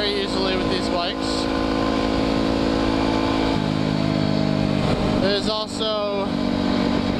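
An enduro motorcycle engine drones steadily while riding, with a loud, continuous rumble and some rising revs. Someone talks briefly over the engine noise.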